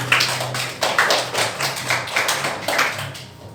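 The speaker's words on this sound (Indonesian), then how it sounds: "berikan aplaus kepada Saudara Robi" Classroom applause for a student's presentation at a polytechnic: a brief, fairly close patter of hand claps with a loose, uneven rhythm that tapers off after a few seconds.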